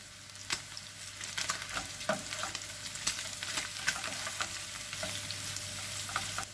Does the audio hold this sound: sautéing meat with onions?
yes